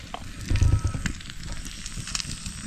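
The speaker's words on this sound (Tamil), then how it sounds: "நண்டு மீன் வறுத்துட்டான். கனல் கொஞ்சம் அடிக்குது" Crab frying over an open campfire at night, a steady low crackle and sizzle of embers with a brief louder burst of popping early on, close by and with no talk.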